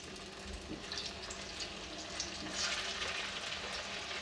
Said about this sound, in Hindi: तो तेल हमारा गर्म हो गया है, अब इसे हम फ्राई कर लेते हैं